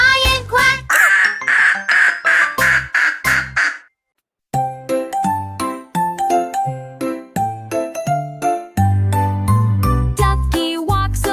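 Repeated cartoonish duck quacks mixed with tinkling, bell-like musical notes, loud and rhythmic, with a brief pause midway before the quacking and chimes resume.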